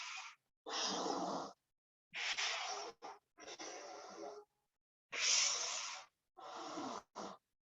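Deep breaths during pranayama yoga practice: slow, loud inhales and exhales in a steady sequence of about seven breathy bursts separated by short silences, close and alone.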